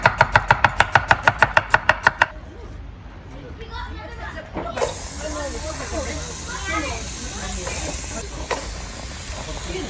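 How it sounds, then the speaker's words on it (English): A rapid, steady run of knife strokes on a chopping board as onions are chopped finely, then a loud sizzle and hiss as they go into butter in a pan. "we need to chop 3 onions really fine"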